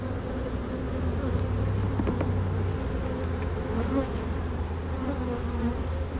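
Honeybees hum in a dense, steady buzz close around an opened beehive during an inspection, continuous and fairly loud with no talk.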